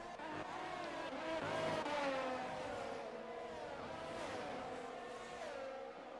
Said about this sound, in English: Brian side by side with Theo, the cars twitching all over the place in the wet conditions.